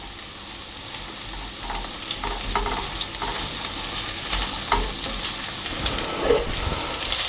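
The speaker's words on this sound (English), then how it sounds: "So my onion has softened now, and that took 2 or 3 minutes." Onion fries and softens over high heat in a small pan. A continuous close sizzle runs throughout, broken by repeated scraping stirs.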